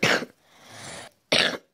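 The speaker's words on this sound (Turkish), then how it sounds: "Affedersiniz öksürdüğüm için." A person coughs in two short, loud bursts separated by a quieter breathy stretch, close to the microphone with no speech.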